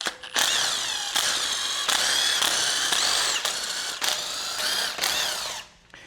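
Loud, close ratchet clicking as screws are backed out of a 1.6 HDi diesel engine, with several bursts of rapid pawl ticks separated by short pauses and no speech.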